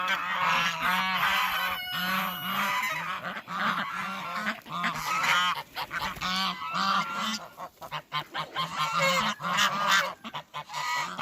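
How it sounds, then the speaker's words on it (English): A flock of farm geese honks loudly and continuously on a cold winter day, close by, with overlapping calls filling the whole stretch and no speech. "Wait for the geese to finish."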